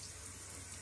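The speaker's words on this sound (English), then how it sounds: "This is called rinsing when you get the water on it." Faucet water running into a sink while a child rinses soap off hands, a steady, even rush heard briefly and fairly softly with no one speaking.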